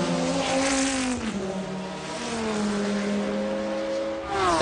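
McLaren race car driven by Yannick Dalmas at Le Mans 1996, engine note held loud and steady with harmonic pitch shifts through gear changes, close and continuous with no talk.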